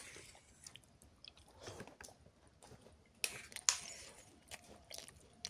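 Someone eats fried sea fish and eggplant dishes, making faint, close chewing and a few soft, wet bites, with no talking.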